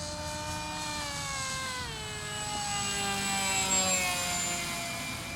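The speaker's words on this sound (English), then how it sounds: "It's nice and pretty quiet actually too, with the motor out in the back like that." A foam fighter-style RC plane with a rear-mounted pusher motor flies past, its steady whining buzz shifting in pitch as it passes and swelling slightly louder midway, with no talk over it.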